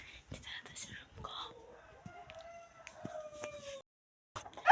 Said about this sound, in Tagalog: sorry kung maingay yung manok dito